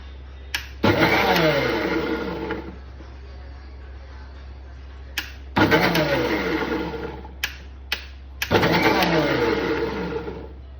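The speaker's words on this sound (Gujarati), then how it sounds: "ગ્રાઇન્ડ કરી લઈશું મિક્સર મશીનમાં" A mixer grinder whirs loudly while grinding pumpkin soup, in three separate bursts of a couple of seconds each, winding up and down with pauses between, with small clicks around the runs.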